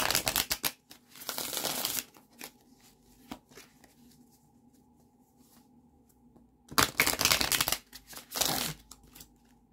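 A deck of tarot cards being shuffled close by, two bursts of riffling cards at the start and end with quieter handling and taps in between.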